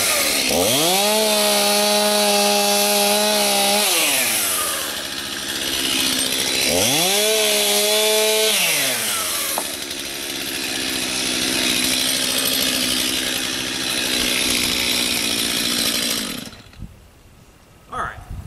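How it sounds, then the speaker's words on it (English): A Stihl MS251C chainsaw cuts wood while clearing an easement, revving loud and close in two rising bursts, then dropping into a steady lower drone before cutting off near the end. "Alright, being lazy. Use my chainsaw."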